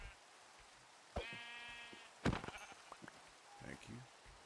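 A black sheep in the video game Minecraft gives a single clear wavering bleat over soft rain ambience, followed by other game sounds and a brief voice.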